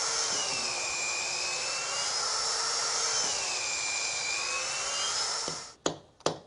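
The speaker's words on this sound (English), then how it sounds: "The drill bit is used, and it's got a counterbore mounted on the drill bit, so it can drill two holes at the same time." Power drill fitted with a counterbore bit boring into boat timber: a loud, steady high whine whose pitch sags and recovers under load, then cuts off, followed by a couple of sharp knocks.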